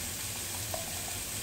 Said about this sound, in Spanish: en un sartén caliente ponemos la panceta, el bacon que tenemos picadito